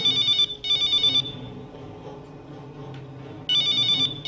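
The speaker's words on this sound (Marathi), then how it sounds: "हा फोन तुम्ही घ्यायचा, हा फोन तुम्ही घ्या." A telephone rings during a Marathi comedy stage drama: two quick electronic ring bursts, a pause, then a third burst, loud and close, with no voices.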